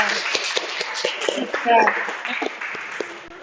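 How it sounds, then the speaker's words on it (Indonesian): Classroom applause for a student group after their presentation during a teaching performance session, a brief burst of clapping from a small audience mixed with chatter and voices throughout. "Tepuk tangan untuk kelompok 1 ya"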